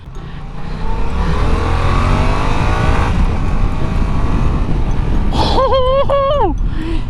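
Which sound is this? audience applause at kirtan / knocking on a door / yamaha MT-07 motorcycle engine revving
yamaha MT-07 motorcycle engine revving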